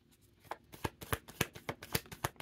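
A deck of cards being shuffled close by, a quick run of crisp riffling flicks and taps in an irregular rhythm, quiet overall with no talking.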